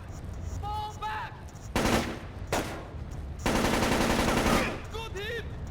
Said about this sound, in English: I'm taking fire!